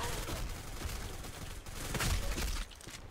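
Rapid ACR rifle gunfire in the shooter game Black Squad, dense and chaotic bursts of shots at moderate loudness that merge into a continuous rattle with a brief lull near the end.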